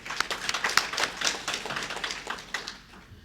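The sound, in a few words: audience applause for the board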